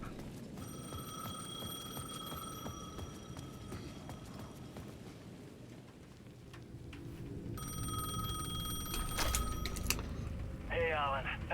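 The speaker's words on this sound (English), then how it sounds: "The payphone at the edge of the plaza was ringing again." Payphone ringing in the video game Alan Wake 2, a steady electronic ring with evenly spaced pulses over a dull ambient rumble, moderately near and growing slightly louder.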